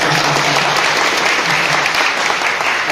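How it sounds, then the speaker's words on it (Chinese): A church congregation at a Taiwanese-language Presbyterian worship service applauds loudly and continuously, a dense wash of many hands clapping together for nearly three seconds. "其实咱爱家己拍手是毋"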